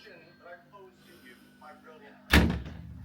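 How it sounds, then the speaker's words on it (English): The PA door of a truck camper swings and bangs shut with one loud solid thud, after someone talks quietly. "And then it's our PA door."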